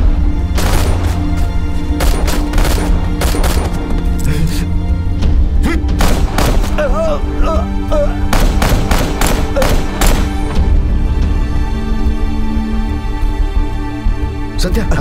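Rapid gunfire bursts and heavy thuds fill a dubbed action-movie firefight, loud and dense over a booming score, with urgent shouting voices in between.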